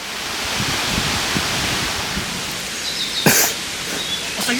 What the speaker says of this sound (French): il y a une cascade de fou dans un petit parc.